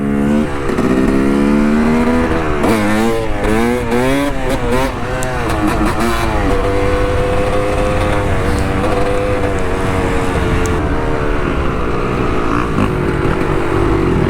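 A dirt bike riding down a road, its engine revving up and down through rising and falling pitch sweeps before settling into a steady drone, loud and close with faint wind noise.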